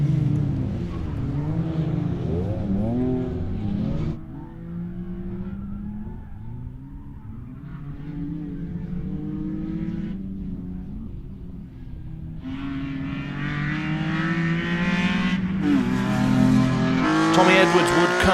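A 2.5-litre Vectra rally car races at Blyton in a club rally championship round, its engine revving hard and climbing through rising and falling pitches as it accelerates and changes gear. A voice may be talking over it.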